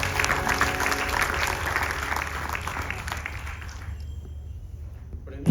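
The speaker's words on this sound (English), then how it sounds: "Please give him a round of applause." Audience applause at a Ganesh Chaturthi night celebration, a steady wash of clapping for the introduced pandit that fades toward the end, with a faint tonal hum beneath.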